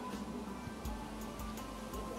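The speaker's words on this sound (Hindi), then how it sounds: "सामने रिवर जा रहा है।" A river flowing in Kashmir makes a steady, broad rushing wash, constant and fairly distant, with no voices over it.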